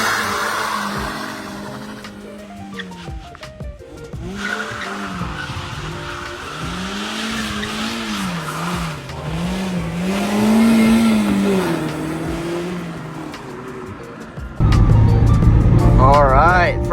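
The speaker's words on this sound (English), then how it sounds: "All right, first drive in the ND Miata, all repaired." A repaired 2017 Mazda ND Miata drives, with engine hum rising and falling through gears and tire squeal, while people talk over it; a louder burst near the end.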